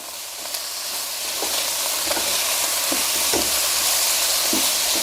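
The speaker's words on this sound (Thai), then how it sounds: "ผัดคลุกเขาให้เข้ากัน ไว ๆ ได้เลยครับ" Chicken with cut spring onions and coriander stir-fried in a hot pan, a steady loud sizzle with occasional scraping stirs and clinks of the spatula, no voices.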